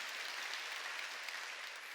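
Steady applause from a church congregation at a Wednesday evening service, a faint, uniform spread of many hands clapping far off, unbroken for the whole stretch.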